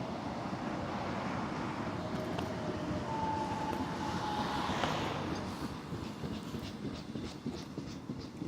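Steady low rumble and rushing noise inside a nearly empty subway car while the train runs, with a faint brief whine in the middle and no voices.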